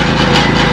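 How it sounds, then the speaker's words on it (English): An automatic vibrator compacts a freshly poured cement floor at a house build in the Philippines, a loud, close, continuous buzzing engine drone that holds steady throughout, with no voices over it. "So that's our little automatic vibrator right there."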